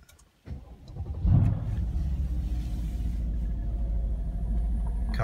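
Mercedes SL63 V8 firing up via keyless start: a quiet interior, then a sudden catch and a loud rumbling flare before it settles into a steady, deep idle, heard from inside the car with no voices.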